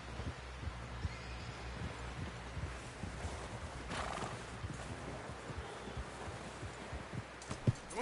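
A horse in the video game Red Dead Redemption clops along at a steady walking rhythm, hooves thudding close and fairly quiet over a soft outdoor ambience, with a brief snort or whinny partway through.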